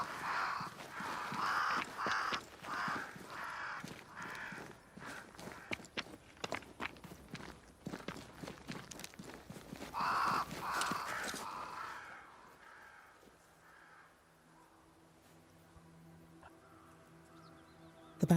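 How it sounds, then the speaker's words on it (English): Crows cawing in the video game Banishers: Ghosts of New Eden, repeated harsh calls over footsteps in the game's ambience, fading to quieter background tones near the end. "Crows. They flock to that great tree up there."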